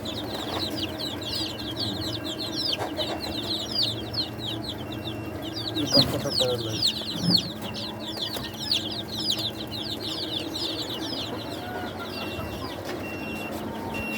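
Many chickens clucking and chattering continuously at a poultry farm, a dense busy chorus of overlapping calls at moderate distance, with occasional brief bumps and faint voices in the background.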